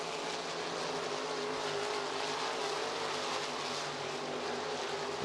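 Sprint race cars roar past on the I-90 Speedway track, a continuous faint engine drone heard from a distance that swells slightly and fades without any clear voices.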